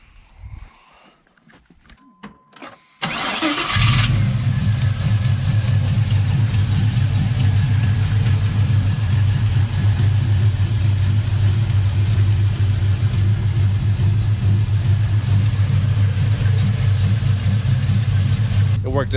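An LS V8 swapped into a Chevy OBS truck cranks over and settles into a loud, steady, rumbling idle that continues for many seconds, with a few faint sounds before it starts.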